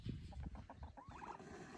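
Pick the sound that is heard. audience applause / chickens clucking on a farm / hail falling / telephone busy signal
chickens clucking on a farm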